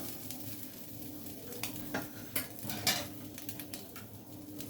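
Fried fish pieces are lifted out of a sizzling pan of oil, with a continuous close sizzle punctuated by repeated clinks and scrapes of a utensil against the pan.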